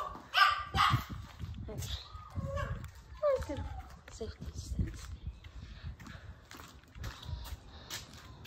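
Several dogs bark and yip at a new puppy in a home, with sharp repeated barks and some whimpering that come and go over a background of a person talking.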